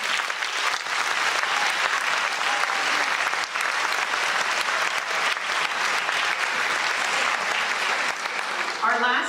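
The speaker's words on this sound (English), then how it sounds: "Let's give everyone a round of applause." An audience at a middle school spring orchestra concert in Ridgewood applauds, dense sustained clapping from a full room that carries steadily for several seconds.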